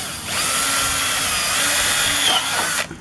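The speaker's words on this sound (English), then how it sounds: "I'm just going to drill it here" A power drill runs steadily at close range, boring into a plastic part for a homemade compost tumbler, with a continuous whine that holds for nearly three seconds before cutting off.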